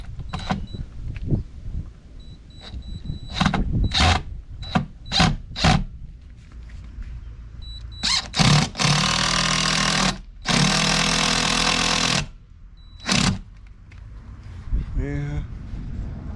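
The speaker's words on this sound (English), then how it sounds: "I'm gonna go ahead and pop a couple screws in here" A power driver drives a couple of screws into a floor being repaired, with short whirring bursts and then two longer sustained runs of several seconds each, close and loud, with brief talk in between.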